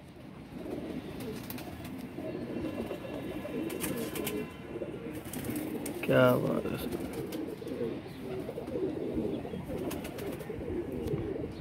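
Salare teddy pigeons coo softly in a low, murmuring rhythm among a loft of domestic pigeons, with one louder burst near the middle, while someone talks over the birds.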